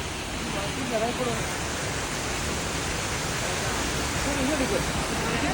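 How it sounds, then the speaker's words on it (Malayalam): Glenoe waterfall in County Antrim, Northern Ireland, pours as a steady, loud broadband rush of falling water, continuous throughout with faint voices briefly audible beneath it. "ഇത് നമ്മുടെ വെള്ളച്ചാട്ടം"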